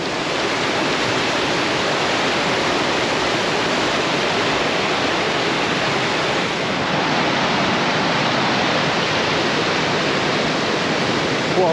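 Steady rushing flow of the River Prosen, a Scottish river, at a pool of clear, icy water, a continuous broadband wash without pauses or voices.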